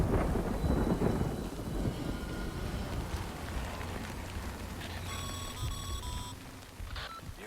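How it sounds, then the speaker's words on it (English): Rain and thunder in the video game Death Stranding: a heavy rumble of thunder opens over constant rain hiss, fading to steady rainfall with a few electronic beeps and chimes from the game near the end. "Good thing it was raining."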